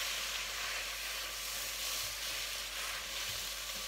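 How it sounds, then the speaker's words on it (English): Zucchini and pine kernels sizzling in a pan, a faint steady hiss of frying with occasional soft stirring, no voices. "So I'm now going to stir that all together."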